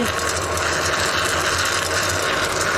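An EGK-80/100 extruder with an undersized motor strains under a heavy feed, giving a continuous dense mechanical grinding and rattling drone at close range with no talk over it.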